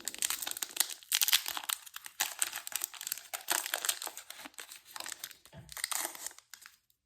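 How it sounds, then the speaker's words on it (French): A Fable Nébuleuse trading card booster pack's foil wrapper is torn open close by. Crisp crinkling comes in irregular bursts, with brief tearing rips and no voices. "On a au total 9 boosters à ouvrir."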